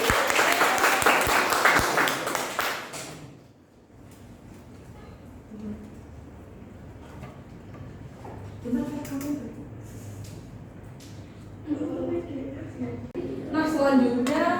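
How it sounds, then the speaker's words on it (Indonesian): A burst of clapping from a classroom of students fills the first few seconds, then fades into a quieter room with people talking. "Tepuk tangan dong."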